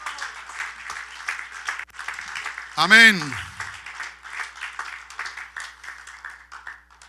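A church congregation claps together in steady sustained applause while a voice calls out briefly over it.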